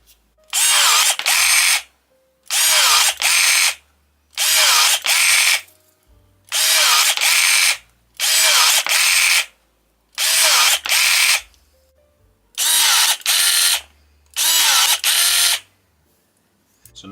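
Parkside PAGS 4 A1 4V electric secateurs whirring as they cut a stick about 1 cm thick, in eight loud, close, motorised bursts about a second each, separated by silence.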